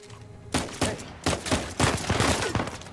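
Gunfire in the action game Uncharted 4: after a quiet start, a string of rapid, loud shot bursts comes in quick succession, close and dense, with no talking.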